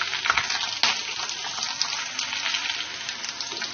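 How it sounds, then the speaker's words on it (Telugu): Ginger and green chilli pieces sizzle in hot oil for a tempering, a steady close crackle with a sharp spatter burst early on, no talking. "అల్లం ముక్కలు, అలాగే పచ్చిమిర్చి ముక్కలు వేసుకొని వేయించుకోవాలి"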